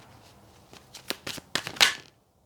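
Tarot cards shuffled by hand nearby, a string of quick riffling and snapping bursts that grow louder before stopping abruptly into silence.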